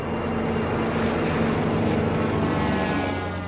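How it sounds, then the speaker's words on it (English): Test plane climbing in flight over an unpopulated area, a loud, steady engine drone that swells slightly and then eases, with no voices. "As the test plane climbs,"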